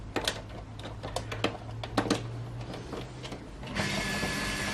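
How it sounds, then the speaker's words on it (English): An air compressor kicks on in a workshop during a PS4 Pro teardown, a steady hum that jumps to a louder, broad hiss midway, preceded by clicks and taps of small tools. "Sorry about the compressor, it will go off"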